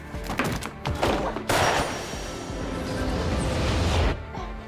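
Gunfire from a played-back recording in a crime drama scene: a sharp burst of shots and thuds, followed by a sustained loud rumbling clatter that fades out.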